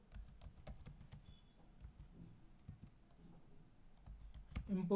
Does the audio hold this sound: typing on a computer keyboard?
yes